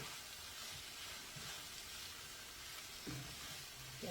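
Flour cooking in oil in a pan for a meat and tater tot casserole, giving a steady, fairly quiet hiss and sizzle with a few soft stirring knocks near the end.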